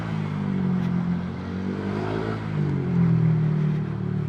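A motorcycle fitted with a TRC Racing powerpipe exhaust idles and revs up close, its engine holding a steady, consistent rumble that swells louder toward the end, heard alone with no talk.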